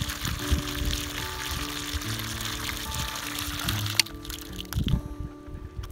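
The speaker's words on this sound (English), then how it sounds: "it didn't take long before I had water flowing" Water flowing into a newly supplied tank, a continuous gurgling, trickling pour that runs steadily throughout, fairly close, with a few thumps and knocks near the end.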